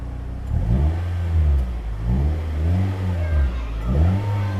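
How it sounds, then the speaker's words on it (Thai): A 2018 Toyota Vios 1.5G engine revs up and falls back in three or four repeated blips, its deep exhaust note rising and dropping close by, with no talking. "คุณผู้ชมลองฟังเสียงท่อดู เดี๋ยวผมเบิ้ลให้ ดูนะ"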